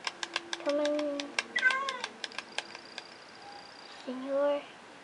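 A cat meows a few times near and clearly, short rising and falling calls mixed with clicking ticks and game sounds from a Minecraft session.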